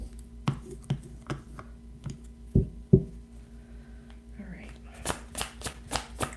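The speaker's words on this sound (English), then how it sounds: "I'm going to pull a few cards." Tarot cards being shuffled and pulled during a live reading, giving a series of soft papery flicks and taps with a few sharper knocks, close and quiet, followed by a burst of rapid riffling near the end.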